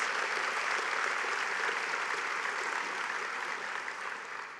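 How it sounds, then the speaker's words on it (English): A morning audience at a Not Now, Not Ever speech event applauds for a couple honoured from the stage, an even, dense patter of clapping that holds steady and eases slightly at the end. "Can we give Sue and Lloyd Clark a lovely round of applause?"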